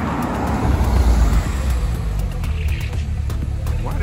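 A speedster sports car drives past on a London street, a loud rumbling engine swell that peaks early and then fades into general traffic noise.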